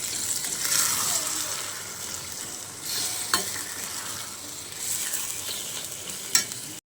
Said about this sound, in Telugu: చికెన్ వేసుకున్నాక ఒకసారి కలపెట్టుకుందామండి.